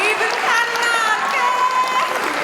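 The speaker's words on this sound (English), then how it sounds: "Another round of applause, well done." Crowd applause and cheering at the Miss Universe New Zealand 2019 grand final after a singer's performance, a loud sustained wash of clapping with voices and shouts mixed in.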